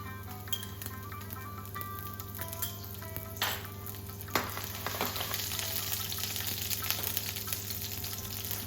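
Ginger julienne and slit green chilies go into hot oil for a Bengali mustard fish curry, producing a clear hiss that swells into a steady, crackling sizzle with a few clinks of utensils.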